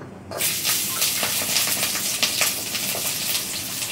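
Garlic frying in a pan with hing while cooking chicken: a loud, steady, close sizzle that bursts on at once and keeps crackling and spitting throughout.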